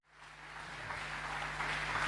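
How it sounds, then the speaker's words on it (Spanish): Applause from a church congregation at a men's convention swells quickly from silence into a dense, continuous wash that keeps building, heard over a low steady hum. "Con un fuerte aplauso damos la bienvenida"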